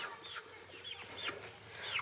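Chickens and roosters hidden up in a coop or run, clucking and calling in scattered bursts, several overlapping at moderate distance over a steady background hum, with no talking.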